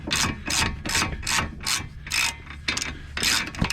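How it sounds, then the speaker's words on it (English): A ratchet wrench clicks loudly in rhythmic back-and-forth strokes, close up, driving long 21 mm caliper bolts on a 2014 Dodge Charger SXT during a front brake and rotor job, with no speech. "We'll grab the ratchet and get those down in there."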